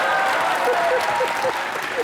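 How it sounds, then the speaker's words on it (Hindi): A television comedy show's studio audience applauds loudly in a dense, sustained burst of clapping, with a voice calling out over it. "उनके एक बार जोरदार ताली।"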